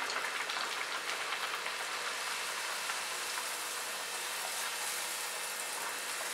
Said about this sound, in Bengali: তেলটা খুব ভালো করে গরম হলে তারপরে কচুরিগুলো ছাড়বেন, আর সব কটা তাহলে ফুলবে